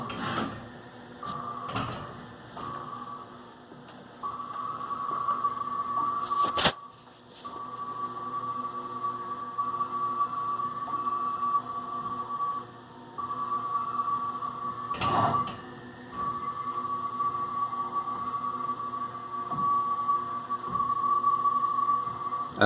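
A Haas TM1 CNC mill plots a drawing with a spring-loaded pen holder, its steady servo whine running for over twenty seconds. A couple of sharp clunks and brief pauses break the drone.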